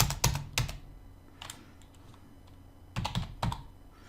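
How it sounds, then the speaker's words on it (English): Random keys are struck on a computer keyboard during a mental arithmetic lesson: a few scattered clusters of crisp, close clicks separated by short pauses, with no talking. "I'm just randomly hitting keys"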